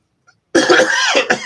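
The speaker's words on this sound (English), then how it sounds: "I'll probably be coughing for another few more weeks" A harsh, close cough erupts suddenly after near silence, a short fit with two or three bursts, loud and raspy.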